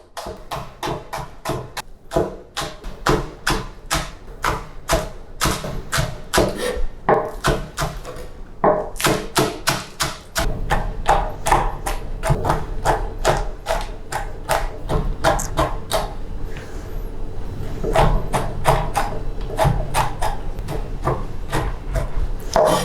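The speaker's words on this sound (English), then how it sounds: "So let's just cut these into thin slices." A knife slices an ingredient into thin slices on a cutting board for a one-pot satay curry, with rapid, evenly spaced loud chops that keep going and thicken in the second half.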